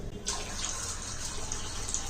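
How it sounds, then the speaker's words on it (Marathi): Water pours steadily from a vessel over washed black chickpeas, a continuous close splashing rush that starts abruptly and runs unbroken, with no voices. "आपण यावरती पाणी टाकायचं आहे कमीत कमी दोन तीन इंच तरी पाणी राहायला हवं"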